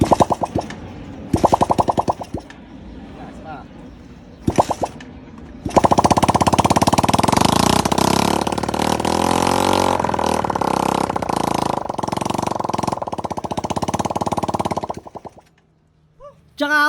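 Stock Raider 150 motorcycle engine kick-started after several kicks, catching into a loud sputtering run with revs rising and falling for about ten seconds before cutting out.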